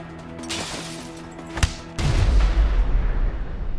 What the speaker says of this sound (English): I will shoot him.